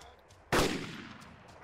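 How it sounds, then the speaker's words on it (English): A single sharp gunshot in the video game DayZ cracks out and then decays into a fading tail, with quiet background before it. "Where are you shooting from?"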